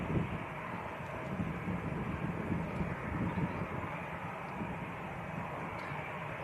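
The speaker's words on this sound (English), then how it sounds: "EasyJet to the Isle of Man. Airbus A320." An easyJet Airbus A320 at Manchester Airport gives a sustained, fairly loud jet engine rumble that holds steady throughout with no one talking.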